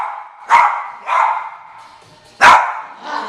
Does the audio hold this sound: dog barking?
yes